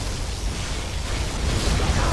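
Particle cannon blast in C&C Generals Zero Hour, a loud sustained roaring burst of energy and rumbling explosion filling the whole clip, with no speech over it.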